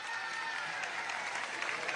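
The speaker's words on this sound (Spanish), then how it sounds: "Un aplauso." Applause from an audience at a presidential council meeting on education in Venezuela: a brief, fairly faint wash of steady clapping, heard from a distance and holding even throughout.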